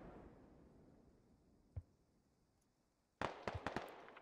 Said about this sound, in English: Smoke rounds go out.